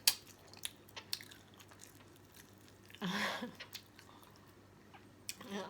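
Grilled chicken heart being chewed close to the mic, with soft wet squishing and crunchy bites in an uneven rhythm, quiet overall apart from one brief louder rustle midway.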